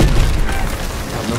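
A Panzer tank blowing up in Call of Duty WWII, a loud close boom with a heavy low rumble that rolls on and slowly eases over a second or so.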